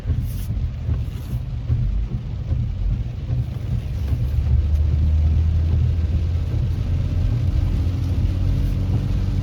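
A 4-cylinder car engine runs at a dealer auto auction, giving a steady, close, low rumble throughout with some wind-like noise.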